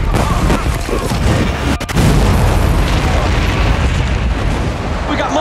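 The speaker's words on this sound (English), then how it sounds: "We got multiple explosions." Loud, dense booming noise from multiple explosions on Boston streets, with a sharp burst partway through amid chaotic rumbling and crowd commotion.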